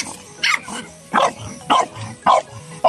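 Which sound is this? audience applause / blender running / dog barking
dog barking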